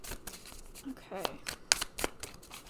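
An oracle card deck is shuffled by hand in a quick, close riffle of papery flicks and slides, with a brief voice heard over the card sounds.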